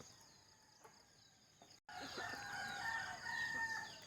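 Chickens and roosters in the morning, faint and distant at first, then after a brief cut a rooster's drawn-out crow rises clearly above quiet background ambience.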